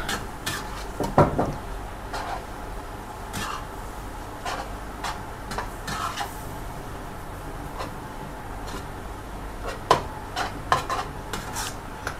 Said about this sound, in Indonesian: dan sekarang kita aduk.